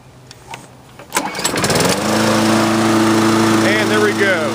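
A Scotts walk-behind lawn mower is pull-started: a couple of brief cord rattles, then the small engine catches on the first pull and settles into a loud, steady close-up drone.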